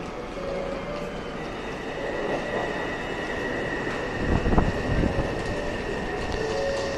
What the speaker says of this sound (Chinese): 北投的捷运列车进站了